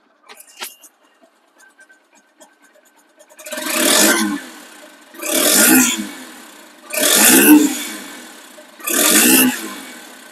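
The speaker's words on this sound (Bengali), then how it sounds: "এই বাইকটি যে শোরুম কন্ডিশন সাউন্ড, এতে কোনো বিন্দু পরিমাণেও সন্দেহ নেই" A second-hand Honda X Blade ABS motorcycle in showroom condition is revved four times in close succession. Each burst rises and falls, with short quiet gaps and a few faint clicks beforehand.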